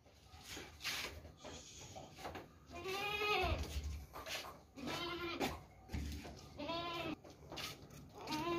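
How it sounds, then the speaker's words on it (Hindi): Goats bleat in several distinct, wavering calls spaced a second or two apart, fairly close, over a quiet farmyard background. "बहुत ही ज़बरदस्त आला क्वालिटी की बकरियाँ हैं ये दोनों"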